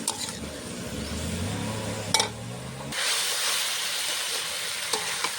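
Vegetables stirred and fried in a pan for Bengali small-fish chorchori, a steady hiss of sizzling with occasional scraping knocks, continuous and fairly close.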